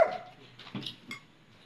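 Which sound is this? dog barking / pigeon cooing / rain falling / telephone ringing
dog barking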